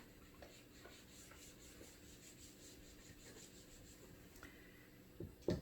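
A board eraser rubs chalk writing off a classroom board during a math lesson, a steady, quiet scrubbing that runs unbroken, with a couple of sharper knocks near the end and no voices.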